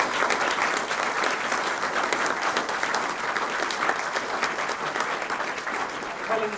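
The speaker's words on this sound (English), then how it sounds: "Can we give our candidates a round of applause for their time?" Audience at an election hustings applauding the candidates, a dense steady clapping from a roomful of people that carries on for several seconds.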